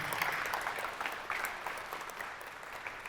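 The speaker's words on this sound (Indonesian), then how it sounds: "mohon tepuk tangannya" Audience clapping at a hospital event, a moderate burst of many hands that starts full and slowly thins out over a few seconds.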